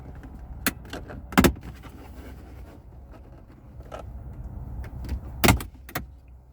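Plastic trim held by tight push-pin clips is pried from a 2021-or-later Ford F150 interior, giving sharp, close snaps and clicks in two main bursts amid quieter rubbing and handling noises.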